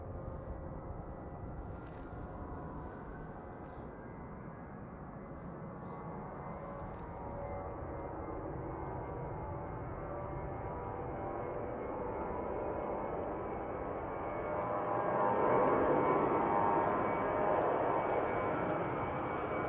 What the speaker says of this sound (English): Just departing is the Jetstar JQ228 heading off to Auckland